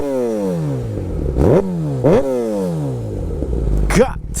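A 2017 Kawasaki ZX10R sportbike fitted with a Graves exhaust and Graves tune revs hard close by, its engine note repeatedly climbing and falling as it accelerates through gears, loud and raspy with a sharp surge near the end.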